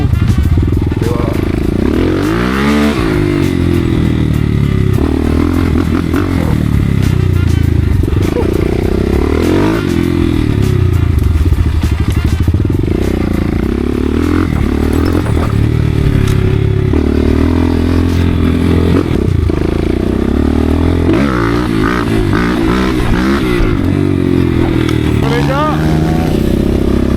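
A 250cc Thunder motorcycle ridden alongside a friend's bike on a quiet Sunday outing, its engine droning loudly throughout with rising and falling revs, a busy wind-buffeted ride recorded close up.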